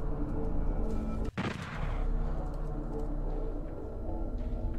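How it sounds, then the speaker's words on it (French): One loud shotgun blast in the Doom 64 PC game, a sharp boom followed by a tail that fades into constant game noise and rumble. "Ah non, maintenant j'ai un fusil."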